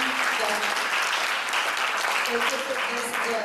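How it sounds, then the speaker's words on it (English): Audience applause fills a Toastmasters District 75 installation ceremony hall, steady, loud and sustained throughout, with a speaker's voice faintly underneath. "Let's give them a big hand."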